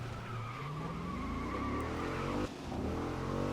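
A race car spins out in the video game Grid, its engine droning steadily while tires skid and squeal in a long continuous slide, with a brief dip before the engine note rises again.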